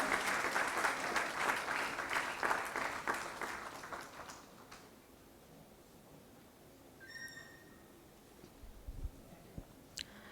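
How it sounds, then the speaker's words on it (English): An audience at a ceremony applauds, with fairly faint group clapping that fades out over about five seconds, followed by quiet room tone with a few brief small noises. "A huge round of applause for her"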